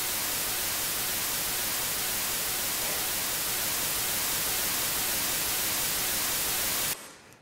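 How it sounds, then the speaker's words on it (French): Dense, continuous white noise plays back steadily at even loudness for about seven seconds, then cuts off abruptly. "comme c'est du bruit blanc, ben, c'est difficile de savoir qu'on a répété 3 fois la même chose"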